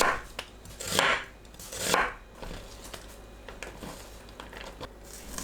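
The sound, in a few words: knife thinly slicing onion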